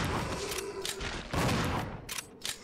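Shotgun blasts in the video game Resident Evil 0 sound as a dense run of sharp booming reports over a noisy game soundscape, with bright cracks near the end.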